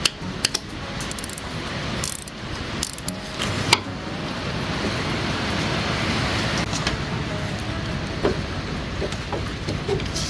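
A 13mm ratchet loosens the timing belt tensioner on a Fiat 500 in a garage, giving sharp ratcheting clicks at the start and then a steady mechanical whir and rattle, close and fairly loud throughout.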